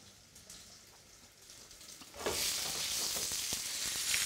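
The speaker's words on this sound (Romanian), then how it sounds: "roșioarele trase puțin în ulei, să-și scoată aroma" Tomatoes hit hot oil in a pan that was used to fry cabbage, the quiet background jumping into a loud, steady, crackling sizzle that keeps going to the end.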